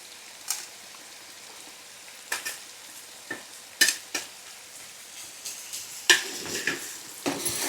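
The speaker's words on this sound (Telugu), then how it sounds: "మనకు ఉప్పు తగినంత కారం వేసుకొని ఒక్కసారి ఇట్లా మంచిగా కలపాలి" A spoon stirs paneer curry masala with salt and chili powder in sizzling oil in a pan, a steady fry hiss with about a dozen scraping, clinking stirs at irregular intervals, close and no talk.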